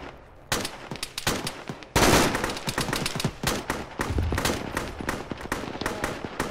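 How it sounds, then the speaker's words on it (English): Rapid, loud gunfire bursts from a bunker in a military shooter video game, with sharp overlapping shots and sustained automatic fire continuing throughout. "It's gunfire from that bunker."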